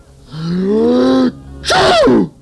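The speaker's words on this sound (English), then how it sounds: "That boulder, it sneezed me off." Exaggerated sneeze effect from a 1981 children's radio drama: a rising drawn-out vocal wind-up, a brief pause, then a loud, bursting sneeze, close and clear with no other speech.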